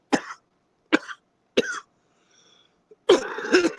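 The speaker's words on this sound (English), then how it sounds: "What coughing?" Four sharp, loud coughs close by, the first three short and evenly spaced, the last a longer rough, phlegmy burst after a brief pause; no talking.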